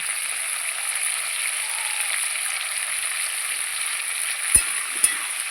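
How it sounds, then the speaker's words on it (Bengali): Steady, quiet sizzle of chopped onion frying with potato and flat beans in oil in a home kitchen pan, continuous crackle with two sharp clacks of a utensil near the end, no talking. "ডিম আলুর সঙ্গে পেঁয়াজটা ভালো করে ভেজে নেব"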